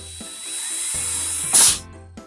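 A power drill bores a starter hole through a plastic container lid, its motor whining steadily at a moderate distance, with brief pauses and a sharp scraping burst as the bit breaks through.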